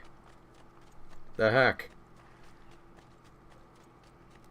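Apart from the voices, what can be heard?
horse hooves clip-clopping in the video game Assassin's Creed 2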